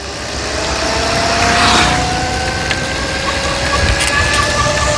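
Homemade electric bike driven by a skateboard motor through a 3D-printed pulley, pulling uphill: a steady, rising electric whine over loud rushing wind and road rumble, close and continuous.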